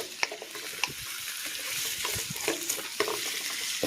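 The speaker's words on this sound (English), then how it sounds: "we want to brown the pork and mix everything together" Cubed pork browning with garlic and onion on a Camp Chef Explorer outdoor stove, a close sizzle with repeated scraping stirs and small knocks of the utensil against the pan.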